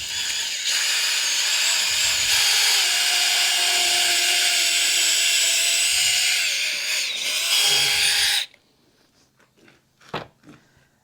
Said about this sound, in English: That drill bit's headed the wrong direction.